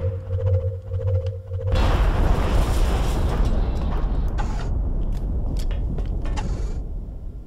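A rocket fires in XCOM Enemy Within with an abrupt roaring blast after a low humming tone, then a long rumbling explosion that decays slowly with scattered debris crackles.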